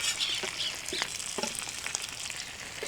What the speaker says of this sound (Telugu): మటన్ పీసులు రెండు పక్కల ఫ్రై అయిపోయాయండి